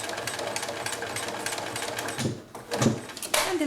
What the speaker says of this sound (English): I'm just going to go right in the same seam that I ripped apart, and I'm going to back stitch.